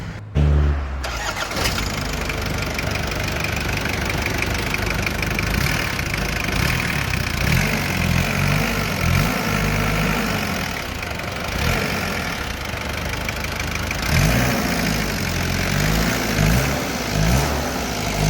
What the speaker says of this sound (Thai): เดี๋ยวจะสตาร์ทเครื่องฟังครับ